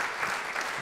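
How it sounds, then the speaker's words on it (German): Applause from an audience at a live talk, a short burst of many hands clapping together, dense and steady for under a second. "Nochmal bitte einen Applaus für Steffen Jung"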